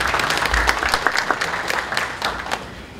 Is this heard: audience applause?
yes